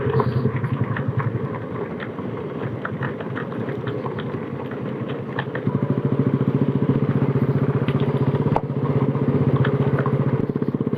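Scooters and motorcycles riding off-road on a hilly jungle track in Purulia, with a close engine drone that rises in pitch and volume partway through, plus rattling and clatter.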